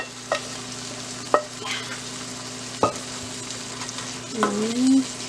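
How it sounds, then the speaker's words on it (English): Boiled vegetables are stirred into oily pav bhaji masala in a pan, with a soft sizzle underneath and a few distinct spoon knocks against the metal, ending in a short scraping stir. "And just give a rough mix, little bit"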